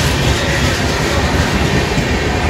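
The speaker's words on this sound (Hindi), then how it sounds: "देखो रेलवे ट्रेन जा रही है" Railway train passing close by in India, a loud continuous rumble of wheels and carriages with a steady rolling roar throughout.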